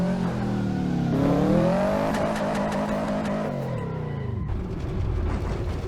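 A Subaru WRX with an Aphidgod tune races up Pikes Peak in the Assetto Corsa sim, its engine revving up through rising pitch, dropping on a shift, then climbing again, with brief tire noise, loud and close.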